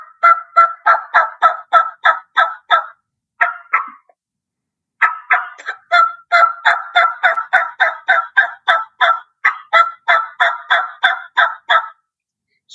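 A turkey call worked by a world champion caller, giving rapid strings of sharp yelps mixed with clucks. The bursts are close and loud and come in rhythmic runs, with one brief pause partway through. The call imitates a wild turkey.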